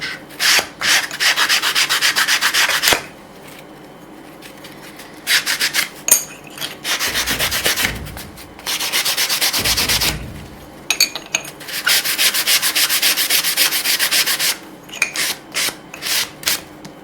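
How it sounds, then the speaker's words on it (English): Repeated bursts of dry, scratchy rubbing as an abrasive sanding sponge is worked back and forth over a hard deburred edge, blending the radius, with short pauses between strokes. "with the sanding sponge."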